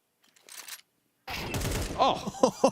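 Pistol shots crack in a round of Counter-Strike: a quiet opening, then a dense cluster of gunfire bursts near the end, with an excited voice talking over the action.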